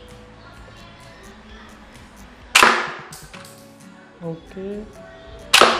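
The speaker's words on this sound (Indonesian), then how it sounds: "Langsung saja kita melakukan tes tembak." A Glock 18C spring blowback toy pistol test fired, two sharp loud snaps a few seconds apart, each with a short ringing tail, plus light handling clatter and a brief spoken word.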